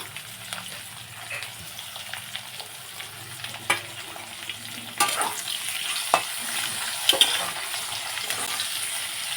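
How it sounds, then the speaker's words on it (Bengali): Chopped onions fry over potatoes in a pan for tangra fish curry, a steady sizzle with occasional stirring scrapes and clinks growing slightly louder partway through; close, no talking. "পেঁয়াজগুলোকেও আমি 2 মিনিটের মতো ভেজে নিলাম।"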